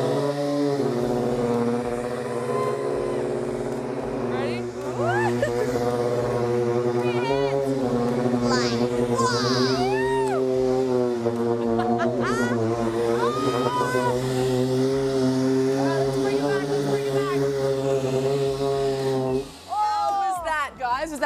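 A homemade sporting hovercraft runs loud and steady, its engine and fan drone holding without a break across the whole span while people talk and exclaim over the noise.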